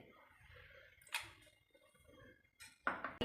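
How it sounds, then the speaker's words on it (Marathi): Ice cubes drop into two glasses with a few sharp clinks and rattles, spread out over a few seconds and fairly quiet against a faint background. "दोन्ही ग्लासमध्ये आईस क्यूब घालून घेते"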